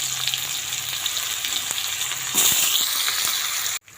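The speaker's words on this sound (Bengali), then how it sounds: "লবণ হলুদ দিয়ে আমি ভেজে নিচ্ছি আলুগুলো" Potatoes frying in a pan with salt and turmeric, a steady close sizzle with occasional stirring scrapes, growing louder midway before a brief cutoff near the end.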